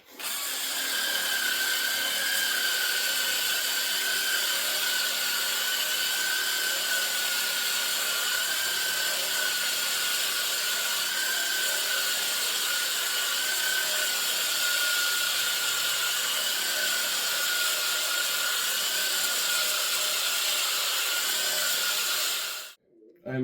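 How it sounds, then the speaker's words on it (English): A power drill spins a wire wheel against a motor to clean the metal continuously for over twenty seconds, a loud, steady high-pitched whir and scrape that cuts off abruptly at the end. "I'm just using the wire wheel and the drill, a little bit of steel wool"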